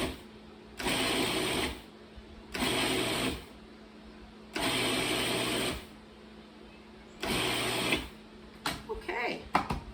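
A food processor pulses a crumbly apple pie topping in four short whirring bursts separated by pauses, followed by clattering as the bowl is handled.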